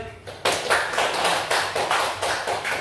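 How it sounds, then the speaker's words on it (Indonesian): A classroom audience applauds a presenting group with steady, rhythmic clapping that pulses in even bursts, fairly close and loud, starting suddenly after a brief lull. "Kita kasih aplaus kepada kelompok yang sudah tampil"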